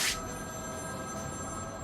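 A phone rings in the video game Batman: Arkham City, a steady electronic telephone tone that holds evenly throughout after a brief bright burst at the start, with no speech.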